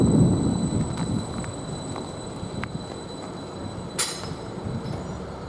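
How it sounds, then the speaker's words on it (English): A train arriving at Ely railway station lets out a sustained high brake squeal over a low rolling rumble, with a sharp bright screech about two-thirds of the way through. "Squeaky brake chime."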